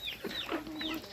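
Native chickens on a backyard flock cluck in short repeated calls, close and moderately loud, with no talk over them.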